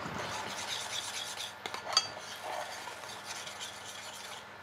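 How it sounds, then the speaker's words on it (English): Steak sauce for a Café de Paris style dish is stirred in a small pan as it heats, a soft continuous scraping and rubbing with a few faint clinks of utensil against metal, close and quiet. "So I'm going to keep stirring it while it's heating up."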